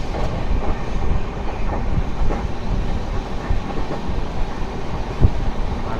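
Steady rumble of the Sabari SF Express train moving along curving tracks between hills and coconut palms, with a continuous rattling clatter and occasional metallic clicks, no voices.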